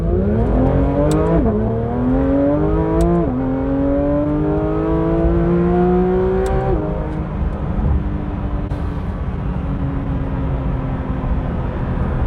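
A Porsche 911 GT3 RS engine with a PDK gearbox roars loudly up through the gears, pitch climbing and dropping with each shift, then settling into a steady drone.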